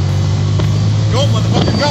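A motorcycle engine idles high at about 4,200 RPM during a group ride in Panama City Beach. It gives a loud, steady droning hum under nearby talk.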